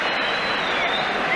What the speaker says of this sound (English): Applause for Waddle,